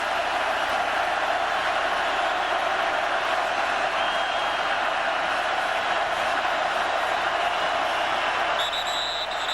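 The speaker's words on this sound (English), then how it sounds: "this crowd coming to their feet again and trying to help out this Hokie defense" A football stadium crowd at a Virginia Tech Hokies game against Miami roars steadily, cheering on the Hokie defense as a dense, loud wall of voices that holds throughout.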